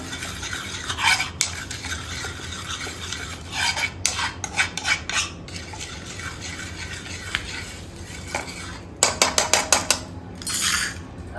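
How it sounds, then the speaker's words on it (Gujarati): A spoon stirs an ayurvedic mixture of leaves and oil in a pot, with repeated scraping and clinking strokes coming in quick bursts against a steady background hiss. "આ રીતના હવે મિક્સ કરી લેવાનું એના બરાબર મિક્સ કરી દેવાનું"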